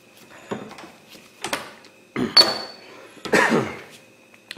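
Hammer blows driving a bearing race out of a disc brake hub on a 14 bolt axle conversion: four separate metallic impacts spaced about a second apart, close and fairly loud, with faint clinking in between.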